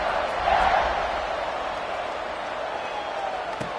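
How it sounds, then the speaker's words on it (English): A football stadium crowd keeps up a broad, steady roar after a score, a dense distant wash of voices with a brief swell near the start and no clear single shouts. "this crowd is buzzing after that last score"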